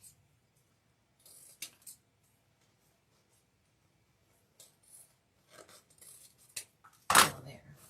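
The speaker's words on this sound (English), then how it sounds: "And then we'll just trim these down." Scissors snip and rasp through deco mesh ribbon while a Christmas wreath is trimmed: a few short, quiet cutting sounds spread over several seconds, ending with one louder crunching snip, and a faint voice in the background.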